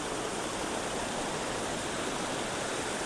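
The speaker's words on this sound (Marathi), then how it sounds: "इथूनही पाणी चालले आणि याच्या पुढं ते बघा तिकडूनही पाणी चालले" Steady, dense rushing of a stream flowing near a Goa temple, a constant broadband wash of water with no voices, loud and unbroken throughout.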